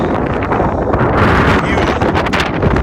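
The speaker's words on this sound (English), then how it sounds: "it is definitely super windy" Strong wind at Delicate Arch in Arches National Park, Utah, roars and buffets steadily, loud and close, with no break.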